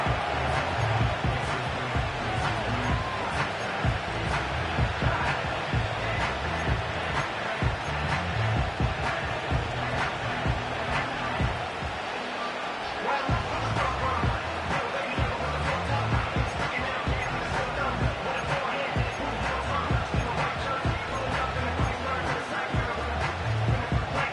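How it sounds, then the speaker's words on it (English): A loud football crowd roars steadily through a late-game stoppage and play, a constant dense wash of noise with a commentator talking over it. "The noise very loud from the crowd."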